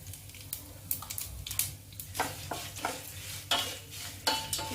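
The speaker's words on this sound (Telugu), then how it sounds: "పోపు అనేది వేగింది." Chana dal, curry leaves and a little turmeric sizzle and crackle in hot oil as a tempering for curd vadas, with a steady close fry and repeated stirring scrapes throughout.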